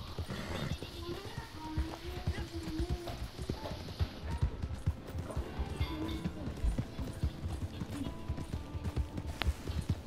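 Horse hooves clip-clop steadily in the Red Dead Redemption 2 video game, a quick, close rhythm of muffled thuds running the whole time, with an occasional whinny and voices talking over it.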